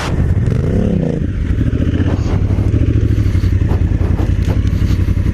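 A Honda CRF1000 Africa Twin rides off-road on a creek trail, its engine droning loud and close with a quick rev near the start, while loose stones and the rough ground clatter and thump beneath it.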